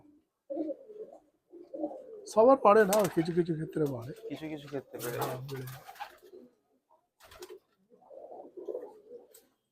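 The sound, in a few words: Pulsar breed pigeons cooing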